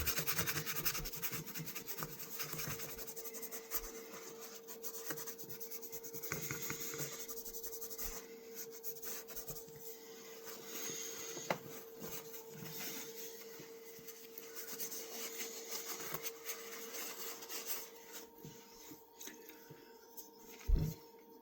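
Hand polishing of a vintage fisherman knife with Mothers metal polish, a steady close rubbing and scraping that carries on almost without pause, with a few louder scuffs near the end.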